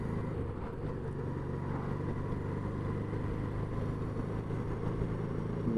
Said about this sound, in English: I do like the sound of that V twin engine.